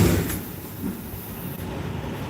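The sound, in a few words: trailer rattling noise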